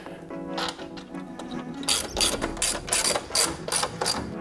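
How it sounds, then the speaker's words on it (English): A torque wrench ratchets as bolts are tightened on a BMW F30 front strut brace, quick close clicking that starts sparse and then runs in rapid repeated bursts. "we have our torque wrench set to 30 Newton meters"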